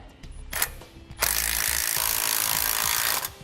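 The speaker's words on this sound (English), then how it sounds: "we use a 5/8 wrench to hold our bolt still and an 11/16 socket to tighten up our nut" A socket wrench tightens a nut on a bolt while installing a rear anti-sway bar on a 2002 Itasca Suncruiser motorhome, with a few quiet ratchet clicks followed by a steady, close rasping ratchet run of about two seconds.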